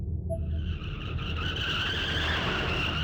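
A car skids in a video game crash, a rising tire screech that swells and holds over a low engine rumble, loud and close, no voices.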